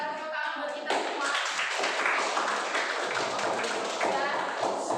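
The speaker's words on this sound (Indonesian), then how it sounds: "Kita tepuk tangan buat kita semua." A ninth-grade class applauds after a project presentation: after a brief quieter lead-in, a burst of dense hand clapping starts and keeps going steadily to the end.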